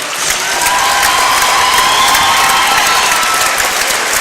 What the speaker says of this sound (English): So let's give our underclassmen a hand.